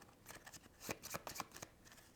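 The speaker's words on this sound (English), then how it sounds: "we need to take the remaining agenda cards, giving those a shuffle" Agenda cards from the board game Power Vacuum are shuffled by hand: a quiet run of crisp riffling and flicking bursts, close to the listener, with no talk over it.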